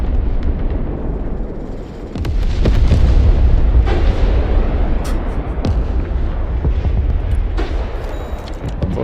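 Cruise missiles slam down during a naval strategy game, heavy rumbling explosions and booms rolling continuously with sharp cracks scattered through a loud, dense barrage.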